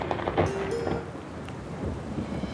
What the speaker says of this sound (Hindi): जंगल में बारिश होने लगती है